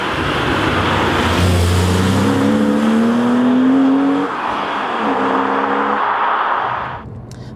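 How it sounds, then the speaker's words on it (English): Porsche 911 997.2 Carrera 2 engine heard from inside the cabin, loud and steady with rising harmonic sweeps as it accelerates through the revs, then a brief dip and renewed pull before easing off. "this car can sound amazing. That being said, you can hear it from inside. It is, of course, pure mechanical noise."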